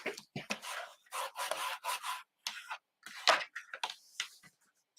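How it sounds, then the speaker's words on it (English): Short dry rubbing strokes burnish a stamped image onto a handmade card, close and crisp, in quick irregular bursts with brief gaps between them. "And we'll give that a little burnish."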